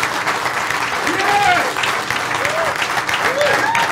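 A crowd at a brunch talk applauds and cheers continuously, a dense, steady wash of clapping with whoops and whistles rising through it and voices talking nearby.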